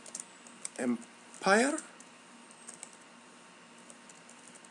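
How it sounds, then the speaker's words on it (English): Soft, scattered keystrokes on a computer keyboard tap along quietly while a person speaks briefly over them. "I will go ahead and type my first name and my last name"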